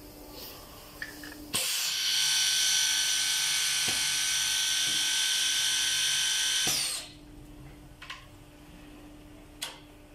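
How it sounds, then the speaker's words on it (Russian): A multi-spindle vertical drilling unit starts with a jolt, runs at a loud high-pitched whine for several seconds, then spins down, leaving faint clicks. "Запускаем сейчас отдельно вертикальную сверлильную группу"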